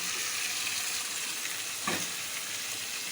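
Chicken pieces drop into a pan of onion and tomato already browned in oil, setting off a sudden louder sizzle over a steady background crackle of frying, with no talking.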